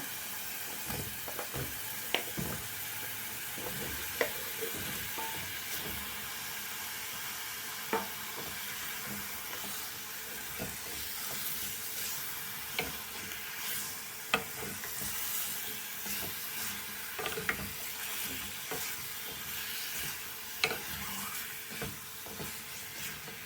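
Pumpkin pieces and green masala with a little turmeric sauté in hot oil for a Tamil-style pumpkin green masala curry: a steady close sizzle with frequent scraping stir clicks throughout, and no voices.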